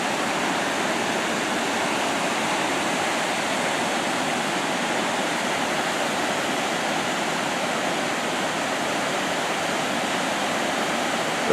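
Potato River Falls roars as a steady, dense wash of falling water, loud and unbroken throughout with no voices, heard from an observation deck facing the upper falls and step pool.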